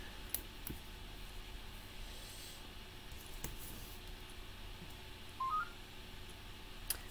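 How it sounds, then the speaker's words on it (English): A faint, brief electronic telephone ring sounds as a short rising run of tones over quiet background rustling and occasional clicks. "I'm going to ignore that phone call"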